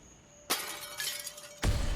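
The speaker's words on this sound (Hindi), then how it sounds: "कांच टूटने की आवाज" Glass shatters in a room at night in a crime drama: a sharp crash followed by a second, heavier burst of breaking glass, loud and close, with no speech.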